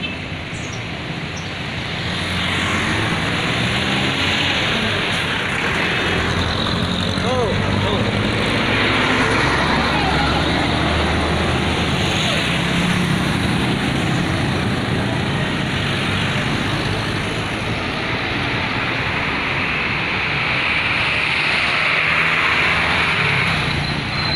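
Heavy traffic of many cars and other vehicles crawling along the road to Lipa on the first day of school, a dense, steady roar of engines and road noise close by, with someone talking briefly over it.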